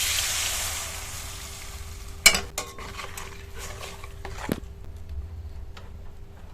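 Milk poured into a pan of bottle gourd frying with salt and turmeric sets off a soft sizzle, with a couple of sharp utensil clinks against the pan and a low steady hiss beneath.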